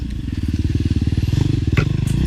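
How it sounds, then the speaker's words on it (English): A dirt bike ridden nearby, its engine making a loud, rapid pulsing chug at fairly low revs that rises slightly in pitch, heard alone. "as you can tell, the bike is working pretty good here"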